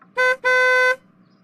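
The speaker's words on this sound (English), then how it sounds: "Now it's my chance to wake her up with an air horn." An air horn blasts twice at close range, a short toot followed by a longer, loud, blaring tone.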